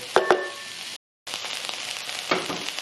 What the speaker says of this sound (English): While our spices was cooking in the with the peppers and onions